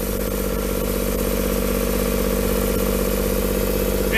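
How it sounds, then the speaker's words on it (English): A Perkins cylinder diesel engine on an M-B Companies 53H runs at a steady idle, a loud, continuous low rumble with an even mechanical clatter and no voices. "Cylinder diesel motor."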